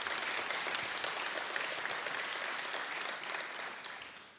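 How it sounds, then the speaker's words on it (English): A crowd at a building groundbreaking ceremony applauds steadily, a dense patter of many hands clapping that gradually tapers off toward the end. "please, a nice round of applause to all of my colleagues here"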